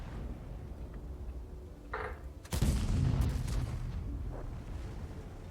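A single heavy, booming tank cannon shot in World of Tanks blasts out mid-clip and rolls away into a lingering rumble over a low background hum.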